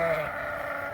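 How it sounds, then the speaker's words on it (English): Rams in a farm barn bleating, a sustained wavering sheep call with another animal's voice layered in, moderately loud and fairly close. "right over here are the rams. You hear them?"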